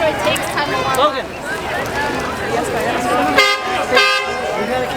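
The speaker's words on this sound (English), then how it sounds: "If that horn doesn't get your attention when you're crossing the street, your headphones are too loud." Vehicle horns toot repeatedly over a busy street during a Veterans Day parade in Reno, Nevada, with two strong horn blasts late in the stretch amid crowd noise and people talking nearby.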